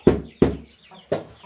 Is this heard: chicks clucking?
yes